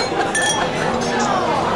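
Drinking glasses clink together during a toast at a bachelor party, a couple of bright, close chimes over a loud, busy room with people talking.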